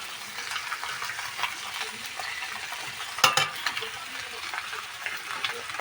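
Fried fish heads sizzle in a pan as they are stirred with salt and turmeric for a curry, with a steady fry hiss and a sharp metallic clatter of the spoon midway.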